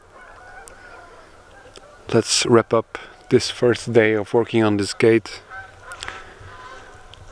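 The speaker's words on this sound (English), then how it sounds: "and with the geese in the background" Geese honk repeatedly in the background at dusk, near a field gate under construction, while someone talks over the honking in the middle of the clip.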